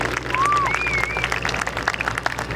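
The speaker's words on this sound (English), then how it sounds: "A very nice round of applause for Thom Richard and 8-point roll." Outdoor crowd at an air show claps for a polished aluminum T-6 Harvard aerobatic display, a thin scattered patter of applause with whistles over a low background rumble.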